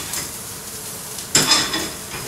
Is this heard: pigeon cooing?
no